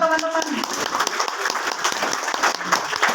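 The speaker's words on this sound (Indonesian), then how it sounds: "Tepuk tangan dulu dong untuk teman-teman." Applause from an audience in a room during a motivational presentation, lively clapping with sharp individual claps over a busy background, a voice speaking over it.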